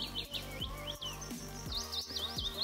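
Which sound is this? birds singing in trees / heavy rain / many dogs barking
birds singing in trees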